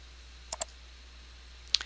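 Two soft, crisp mouse clicks on the Next button of a MetaTrader 4 software installer, the first a quick double tick and the second about a second later, in a quiet room.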